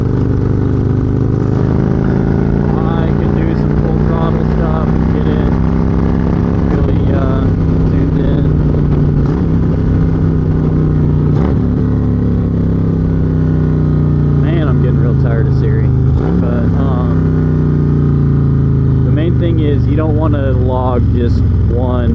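A motorcycle engine runs steadily on a Dynojet dyno during a tuning session, with a loud continuous drone that rises and falls in pitch as the bike works through repeated pulls, and a voice speaks over it.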